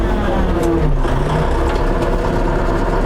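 A new DTZ 504 KKU tractor engine runs steadily at about 1500 rpm at idle in a high gear range, a loud, continuous, even diesel rumble close by with no talk over it.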